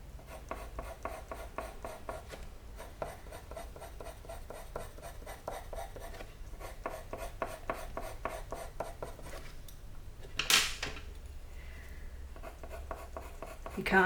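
Colouring pencil scratching on cardboard paper: dense, rapid back-and-forth strokes in long runs with brief pauses and one louder scrape partway through, close and quiet with no talk.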